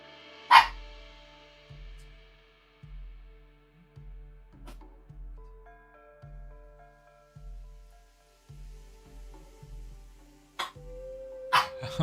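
A female dog barks indoors in a repeated, evenly spaced series of low, muffled woofs, moderately loud, with a couple of sharper sounds at the start and end and no talking.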